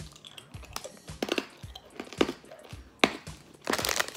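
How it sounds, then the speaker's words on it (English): Someone bites into a crunchy peanut candy, giving a series of close, dry crunches and chewing crackles in irregular bursts, with a few louder snaps. "so let's give it a crunch."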